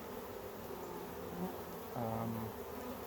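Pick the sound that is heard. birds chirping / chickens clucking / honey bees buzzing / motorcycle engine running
honey bees buzzing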